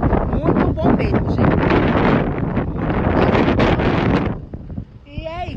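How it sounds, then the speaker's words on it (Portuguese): Outdoor wind buffets the microphone in a loud, steady roar for most of the stretch, easing near the end, while someone speaks throughout. "Acredita que tá um sol quente, mas tá um frio, aquele vento bem gostoso"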